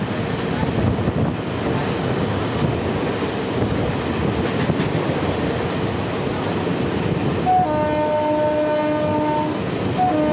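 A Howrah–Bardhaman chord line local train rolls loudly with a constant rumble and rattle of the carriages, and a sustained horn blares over the noise near the end.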